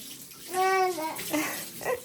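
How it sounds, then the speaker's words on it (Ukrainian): A young child splashes about in a home bathtub, with bursts of water sloshing and a voice babbling and squealing close by across the short clip. "А дитина таляпається"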